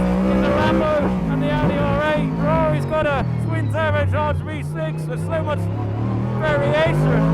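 A Ford Mustang GT3 race car with a V8 engine is heard from inside the cockpit, a loud continuous roar that rises and falls through gear changes, with a voice talking over it.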